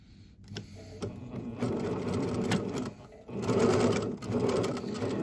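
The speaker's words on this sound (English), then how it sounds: "Now I'm sewing very slowly over some pins" A sewing machine stitches cotton fabric for an origami nose pleat face mask, running slowly in short bursts with a close, rapid mechanical whir and needle clatter, pausing briefly before speeding up again.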